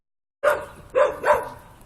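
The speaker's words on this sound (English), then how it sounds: "the dogs are barking. Neighbors' dogs are out" Neighbours' dogs barking outside: three sharp barks after a moment of silence, spaced about half a second apart, moderately loud and slightly distant, with no talking.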